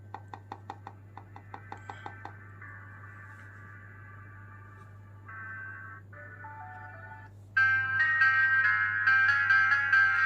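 A BeatXP Marv Raze smartwatch gives a series of quick tapping beeps, then a thin, tinny melody plays from its small speaker and grows louder near the end, heard close with a low steady hum beneath.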